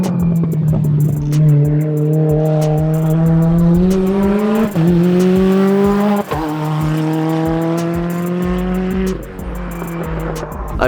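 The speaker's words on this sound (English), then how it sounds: "In fact, the car's about to come right now." A race car drives past on a track with a loud, steady engine drone that shifts pitch as it passes close by and fades away.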